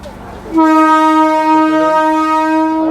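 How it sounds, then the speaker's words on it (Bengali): An ICF coach local train pulls into Habibpur station and sounds a loud, sustained horn blast that begins abruptly and holds steady to the end, over a low rail rumble. "আমাদের ট্রেনটি এই মুহূর্তে থামলো"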